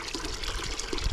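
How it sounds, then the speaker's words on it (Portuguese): Water pours steadily from a large garden hose outdoors at a quiet rural spot, a continuous close splashing rush with no talking. "Aí a mangueirona aí, ó."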